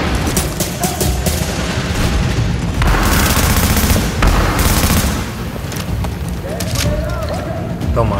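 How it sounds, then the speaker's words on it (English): Grenade blast in The Division's Refugee Camp daily mission: a dense, sustained burst of explosive booms and crackling gunfire fills the clip loudly, with talk over the combat. "Send that grenade, homie."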